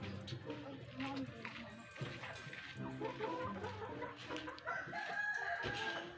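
Chickens and a rooster on a farm, gathered waiting for food, cluck busily and crow close by, with a person talking over the flock.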